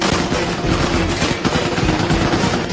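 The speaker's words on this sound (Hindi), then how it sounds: "बाहर के सैनिक हल्क पर गोलियां बरसाते हैं" Soldiers fire machine guns at the Hulk in a movie scene, a dense, loud, continuous rattle of automatic gunfire with no pause.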